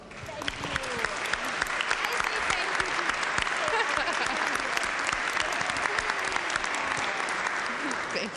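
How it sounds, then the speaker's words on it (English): Sustained applause fills a legislature chamber, a steady wash of many hands clapping for over eight seconds, somewhat distant and even, with faint voices beneath. "So can we give her a round of applause?"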